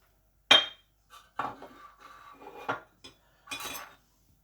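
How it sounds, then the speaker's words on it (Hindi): A spoon clinks against a bowl while sugar, salt, cardamom and white pepper are stirred into a fruit salad, giving a few sharp, separate scrapes and taps against near silence. "चीनी, नमक, इलायची दाना और वाइट पेपर मैं इकट्ठी इसमें मिक्स कर दूँगा इस तरह"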